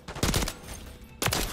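Video game gunfire in a first-person shooter match, two quick bursts of rapid automatic shots separated by a short pause, close and punchy.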